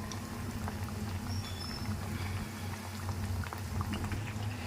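Brinjal bajji, made with country brinjal in roadside-stall style, fry in oil in a kadai with a steady, even sizzling hiss that continues unbroken at moderate volume throughout.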